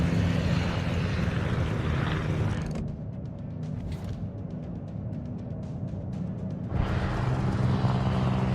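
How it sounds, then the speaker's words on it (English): Fighter aircraft roar past in the naval battle game World of Warships. A loud broad engine drone dips into a muffled stretch with faint propeller fluttering, then swells back to full volume. "Fighter airborne."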